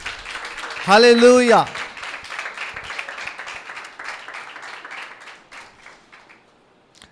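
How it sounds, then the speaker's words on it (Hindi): A congregation at a Sunday church meeting claps for Jesus, a sustained stretch of applause that fades out after a few seconds, following a voice that calls out loudly. "यीशु के लिए तालियां बजाएं।"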